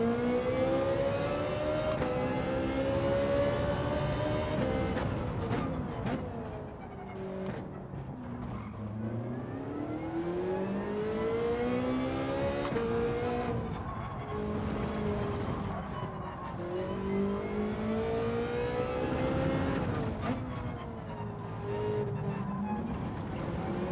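A Ferrari race car engine roars in Gran Turismo 7, revving up and down through repeated gear shifts and pitch sweeps, with tyre skids at times. It is loud and close, runs continuously for the whole stretch, and no one speaks.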